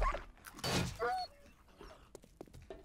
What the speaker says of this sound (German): Das ist ein Kojote.